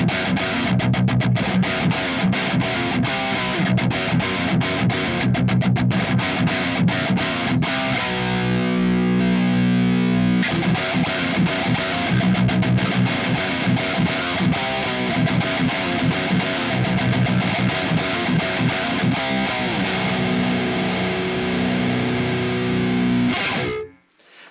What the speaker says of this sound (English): We are now in the neck position of the guitar.